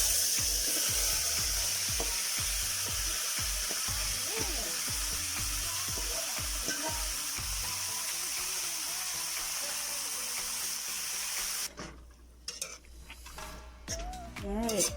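Oxtail sizzles in hot oil in a pot, with steady frying crackle and periodic stirring and scraping clatter, then the sizzle briefly quiets near the end.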